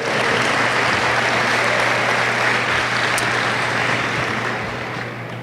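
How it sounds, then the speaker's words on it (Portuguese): Church congregation applauding together, a dense steady wash of clapping that fills the space for several seconds and eases slightly toward the end, with a low hum underneath. "Aplauda ao Senhor."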